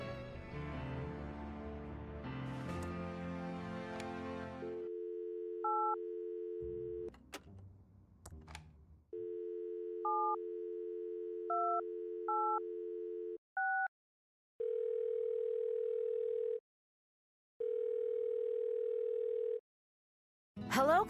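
Telephone tones from the point-and-click adventure game Thimbleweed Park: a steady dial tone, bursts of keypad beeps, then repeated on-off busy-signal tones, clear and close with no talking.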